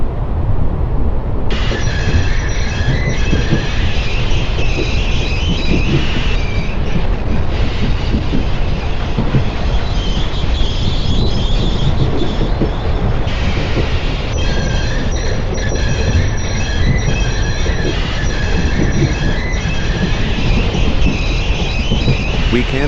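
A train rumbles loudly and continuously on rails, with metallic wheel squeal rising and falling in bursts over a heavy low roar, steady and close throughout.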